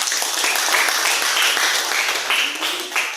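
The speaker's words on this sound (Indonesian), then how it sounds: "Terus ada tepuk tangan untuk kedua." Students in a classroom language lesson applaud together in a dense, continuous patter of close, loud hand claps that holds steady for a few seconds.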